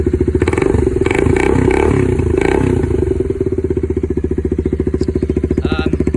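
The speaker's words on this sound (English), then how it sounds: "But this is my motorbike. I'm hoping that it doesn't sound too tinny over the phone." A Suzuki Marauder motorcycle, being built as a bobber, idles close by with a loud, even, rapid engine thump. A brief, slightly busier blip of revs comes early, then a steady loping beat continues.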